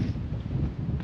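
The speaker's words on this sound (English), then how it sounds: "I forgot about the wind." Wind buffets the microphone during a coastal run near South Sands and North Sands: a steady, low, rumbling roar that fills the whole moment, with no voices.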